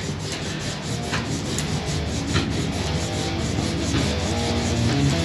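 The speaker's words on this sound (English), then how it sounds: "So now we're going to get on the sanding." Steady, continuous sanding of a Jackson King V guitar's wooden neck, a close rough rubbing sound with slight rhythmic strokes and no talking.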